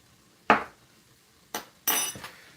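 A fork clinks against a pan while stirring melted butter and equal parts flour into a roux for crawfish mac and cheese: three sharp metallic taps, one alone and then two close together, near and clear over a quiet background.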